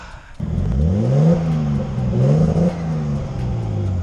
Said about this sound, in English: there's some turbo noises